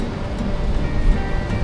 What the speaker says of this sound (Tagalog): Ito yung dagat ngayon dito sa Baler. Ang lakas pa rin ng alon.